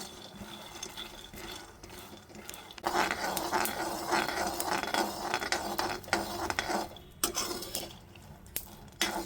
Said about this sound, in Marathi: याला सतत हलवत राहायला लागेल जोपर्यंत हे खमंग भाजून निघत नाही तोपर्यंत